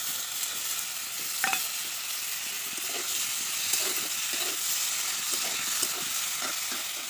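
Vegetables with cumin, onion and spices fry in a pan and are stirred, giving a steady close sizzle and hiss with occasional scraping clinks of the utensil throughout, and no voices.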